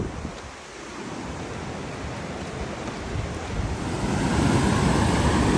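Flooded New England river rushing through woodland along the Appalachian Trail, a dense continuous roar that swells slightly louder toward the end, with wind buffeting the microphone and no voices.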